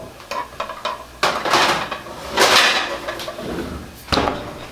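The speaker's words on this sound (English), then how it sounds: "Pan on top of it to weigh it down some." A metal pan is set down on parchment-covered pastry to weigh it, giving a few clanks and scraping knocks of metal on metal, close and fairly loud, with no talking.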